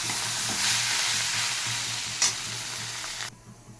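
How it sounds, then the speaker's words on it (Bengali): Bottle gourd with turmeric, spices and coriander leaves sizzles steadily in a hot pan while being stirred, a close continuous frying hiss with a sharp scrape near the middle before it drops off near the end. "এবার একটু ভালো করে নাড়াচাড়া দিয়ে নাড়িয়ে দিচ্ছি।"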